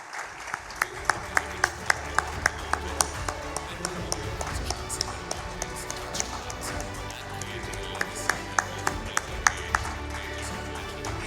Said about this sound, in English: Let the applause keep coming.